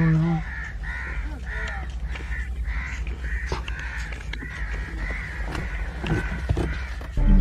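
Crows caw repeatedly in the open during a hunt with a goshawk, the harsh calls coming in a steady series of short bursts over wind noise and background chatter.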